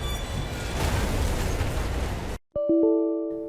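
A train crashes in the video game Fallout London, a loud sustained roaring rumble of noise that cuts off abruptly into silence, followed by sharp tonal ringing hits.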